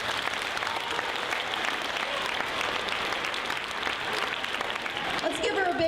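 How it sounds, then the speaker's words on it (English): A school assembly audience at Penn Trafford gives a loud, sustained round of applause, dense clapping filling the room with scattered voices mixed in. "Let's give her a big round of applause."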